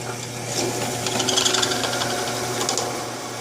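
A step drill bit grinds into metal, a steady buzzing whir with scratchy chatter, fairly close and continuous.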